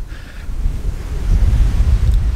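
Steady wind rushes and buffets the microphone with a low rumble, mixed with a wash like distant surf, growing louder partway through. No voices.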